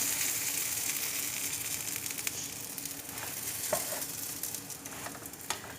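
Gözleme flatbread made from yufka frying in oil in a pan, a steady close sizzle with a few small crackles and pops, no talk over it.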